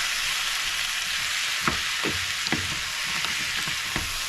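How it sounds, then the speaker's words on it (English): Pumpkin and shrimp sizzle steadily in a pot of canola oil and butter, a close, continuous frying hiss broken by several soft knocks of stirring, with no talk. "So that this can saute properly and move around the pot."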